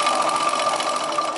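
A brief, steady, close hum of a sewing machine running along the edge of a chudidar top, with a continuous motor drone and no pauses.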